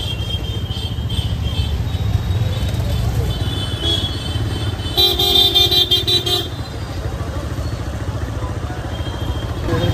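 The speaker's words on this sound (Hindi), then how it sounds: "तो गाइस नए गांव का ट्रैफिक देखो और ये सिचुएशन देखो।" Busy village road traffic in Nayagaon during heavy monsoon rain, with a steady rumble of cars and motorbikes and a loud car horn honking for about a second in the middle, while distant crowd chatter murmurs underneath.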